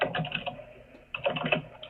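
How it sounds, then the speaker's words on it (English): A computer keyboard is typed on in quick, close clicking keystrokes, with a short pause midway before another burst of typing. "Type in the first name,"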